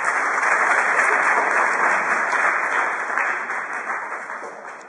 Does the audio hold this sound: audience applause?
yes